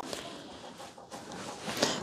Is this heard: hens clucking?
yes